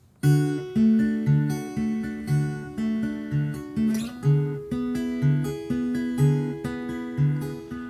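Fingerpicked acoustic guitar plays a steady Travis picking pattern, alternating bass with melody notes on top, repeating in an even rhythm with no talking.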